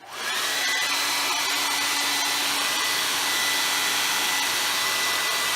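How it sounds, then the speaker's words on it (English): Hair dryer blowing to warm RV windshield wiper blades, switching on and then running as a steady loud whooshing whine, close and continuous, with no one speaking. "But we usually just take and warm them up with a hair dryer."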